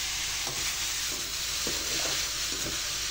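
Pork teriyaki being stirred in a frying pan, a steady broadband sizzle of frying meat with scattered scraping stir strokes of a utensil against the pan, continuous and close, no voices.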